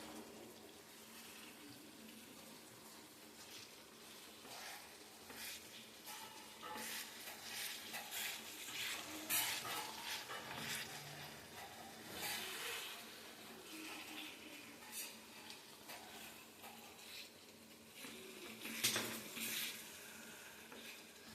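Food being mixed in a pan, a faint sizzling wash with irregular stirring scrapes and soft clatters throughout, quiet and close.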